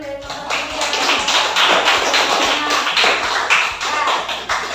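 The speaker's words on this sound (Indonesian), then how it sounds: "kasih tepuk tangan dulu dari teman-teman" Students in a classroom clap together, a dense, loud run of rhythmic claps that holds steady for several seconds, with a little talk mixed in.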